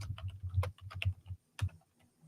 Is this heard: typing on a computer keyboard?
yes